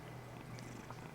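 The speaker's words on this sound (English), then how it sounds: "Also, if you can hear Spock, he's purring really loudly right next to me." A house cat purring loudly right beside the microphone, a low steady rumble that continues evenly through the whole moment with no one talking.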